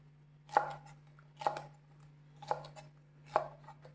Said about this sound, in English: So now I'll show you how to cut the okra, lady finger. You have to cut slant.